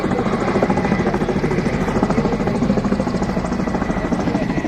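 An MH-60R naval helicopter of the Indian Navy passes at a demonstration, its rotor throbbing in a fast steady beat over a loud engine roar, close and continuous throughout.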